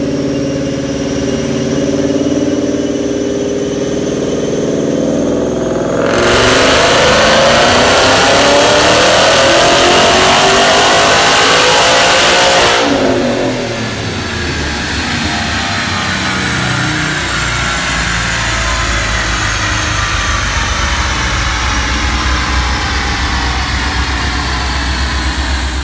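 Roush-supercharged Coyote V8 Ford Mustang with new headers and a cold air intake on a dyno pull, droning loudly, climbing steadily to a high-rev roar with supercharger whine, then dropping back to a rumbling idle.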